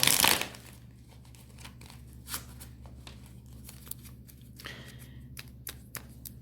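Tarot and oracle cards are shuffled by hand, giving quiet, close papery riffles and soft flicks in irregular bursts against a low steady hum.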